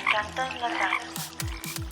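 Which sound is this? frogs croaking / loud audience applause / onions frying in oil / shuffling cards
frogs croaking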